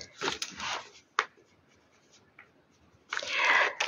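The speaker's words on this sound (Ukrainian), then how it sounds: "Так, все, це я записала." Pen scratching on paper as notes are jotted down, a few short bursts of writing with pauses and a soft tap between them, close and fairly quiet.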